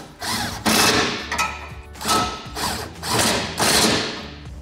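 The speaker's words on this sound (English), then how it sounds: "we can take a 19 millimeter wrench on the bolt side and a 19 millimeter socket on the nut side to" A 19 mm wrench and socket work bolts on a rear bumper bracket of a Jeep Gladiator JT, giving a series of close, loud metallic clanks and ratcheting thuds in an irregular rhythm with no talk.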